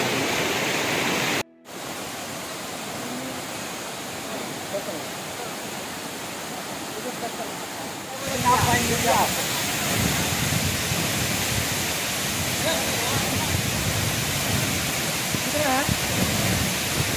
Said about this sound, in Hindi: क्या सीन है, क्या नजारा है, बहुत ही बड़ा वाटरफॉल